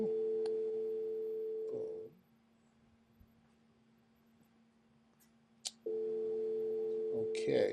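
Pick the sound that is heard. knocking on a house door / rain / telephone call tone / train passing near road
telephone call tone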